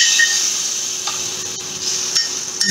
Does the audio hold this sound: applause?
no